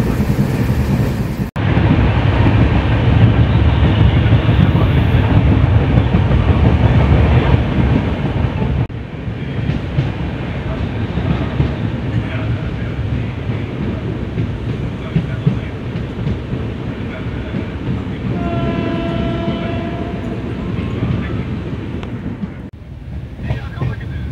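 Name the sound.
passenger train running on rails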